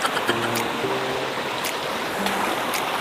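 A clear mountain river fed by spring water rushes steadily near a waterfall, a constant close hiss of flowing water with faint tonal hums, and no one talking.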